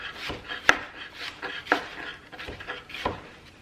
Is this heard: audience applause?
no